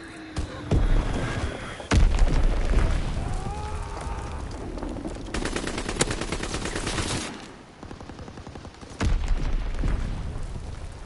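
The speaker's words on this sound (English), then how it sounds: "Enemy bomb incoming. Get to cover." Heavy explosions and booming blasts from an enemy bomb strike in a video game, loud bursts recurring across the span with crackling gunfire-like impacts between them and no talk.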